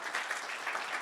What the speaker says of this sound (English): Let's give them a round of applause really quickly.